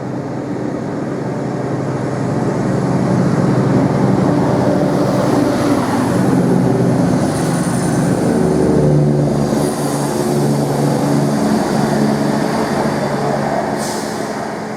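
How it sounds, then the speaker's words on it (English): Class 170 diesel multiple unit 17206 pulling away from a station on full power, a loud, steady, close engine drone and rumble lasting throughout without letup. "we've got 17206 now departing, working the 1047 service to Ipswich. Off it goes on full power."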